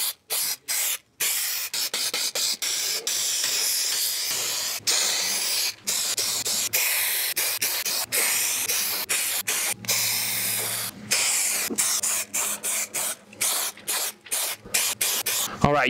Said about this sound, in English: So let's spray it in.